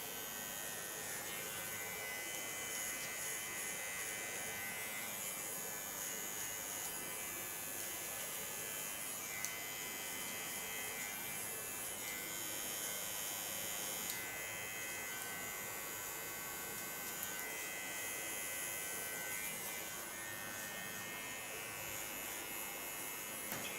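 An electric hair clipper shaves a nape design using only the tip of its blade, giving a steady, close buzzing hum that runs unbroken for the whole stretch with no talking.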